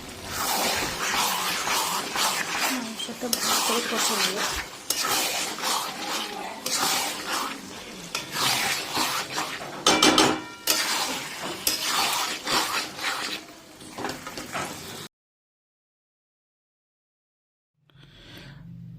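Chicken gizzard masala stir-fried on a high gas flame, with a steady loud sizzle and repeated scraping stirs in the pan for about fifteen seconds, then a brief silence before the frying returns faintly.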